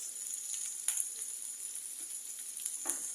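Spices sizzle quietly in oil for a small shol fish and potato curry, a thin continuous hiss with a few faint pops and stirring scrapes. Close but soft, with no talking.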